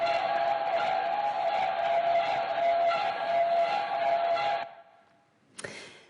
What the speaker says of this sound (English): here's the sound of a ship passing by, recorded underwater.